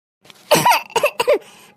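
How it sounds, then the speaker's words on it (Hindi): Several harsh coughs in quick succession from a woman in a comedic Awadhi domestic scene, close and fairly loud, each burst short and rasping, with a faint throat sound before them and a quiet pause after. "अच्छा तो माई के खांसी आवत बा"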